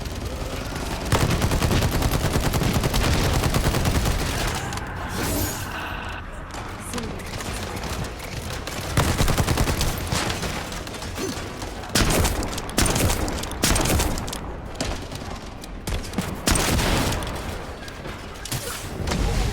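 Shotgun gunfire in a video game, with loud, dense blasts and bursts of shooting running throughout alongside game noise, while a player talks over it.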